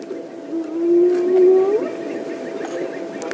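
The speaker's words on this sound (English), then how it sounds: "He knows that sound was a hyena." A wild hyena calls at night on a safari drive near a leopard in a tree, a single rising whoop that swells and fades over about a second against a steady background hum.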